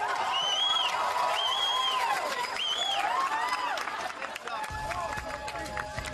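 Crowd at a televised ski jump event applauding and cheering a landing, a continuous loud roar of clapping and voices, with a commentator talking over it and whistle-like tonal sounds rising and falling.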